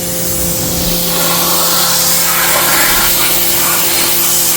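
Pressure washer spraying a roof during DIY cleaning, a steady loud hissing roar with a constant motor hum underneath, running continuously and close throughout with no talk.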